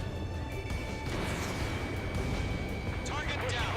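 Fighter jet missile launch in Ace Combat 7, a sharp whooshing burst rising over dense engine roar and radio chatter, with crackling impact noise near the end.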